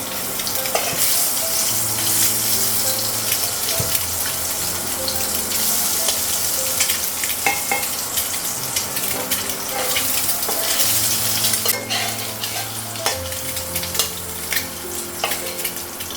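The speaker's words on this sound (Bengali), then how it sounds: "কড়াইটা গরম হয়ে গেছে তো ডিমগুলো লাগানো" Eggs fry in a hot wok with a loud, continuous crackling sizzle, up close, with scattered pops and the odd clink of a utensil against the metal.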